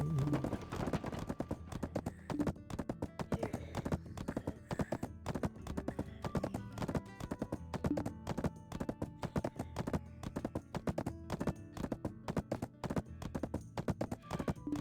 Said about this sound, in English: Run, little horsey, run! Run for your little horsey life.